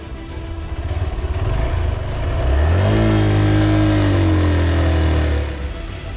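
A motorbike engine labours in first gear on a steep mountain climb in Zanskar, a low rumble that swells into a sustained strained revving drone for a few seconds before easing off, close and loud, with no voices.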